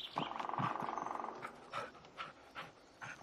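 A dog in the Blair Witch video game pants rapidly in a quick rhythmic burst, followed by a few separate breathy huffs and snorts against quiet forest ambience.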